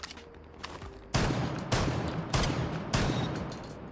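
Shotgun blasts in the Rainbow Six Siege game: a few faint shots early on, then four loud, booming shots at roughly even intervals of under a second, each with a brief decaying tail.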